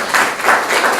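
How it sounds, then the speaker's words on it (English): Audience applause welcomes a wellness speaker to the stage, a brief burst of close, loud clapping with a few distinct pulsing swells in about a second. "So please give a big round of applause to Brent Seal."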